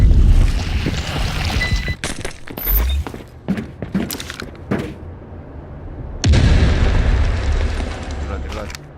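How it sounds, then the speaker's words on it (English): Grenade blasts in the Delta Force shooter game: a loud opening boom, a string of sharp cracks and bangs, then another heavy explosion near the end, with a voice speaking over the action. "Tossing grenade."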